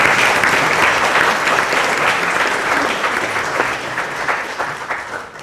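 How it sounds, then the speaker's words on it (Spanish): An audience at a round-table talk on computing gives sustained applause, a dense, steady wash of clapping that fills the room and slowly tapers toward the end. "Démosle un aplauso."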